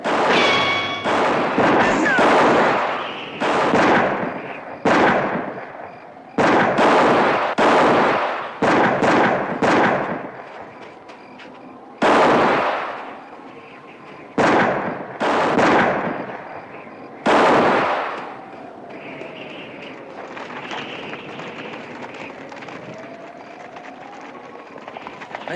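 Western gunfire shootout, a rapid series of loud close gunshots with sharp cracks and echoing tails, irregularly spaced, fading into quieter background with a voice near the end.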